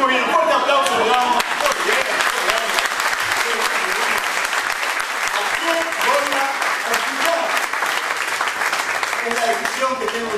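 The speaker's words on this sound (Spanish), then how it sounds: "un fuerte aplauso, le damos." A church congregation gives loud, sustained applause during a Spanish-language service, with thick, even clapping throughout and some voices and cheering mixed in near the start.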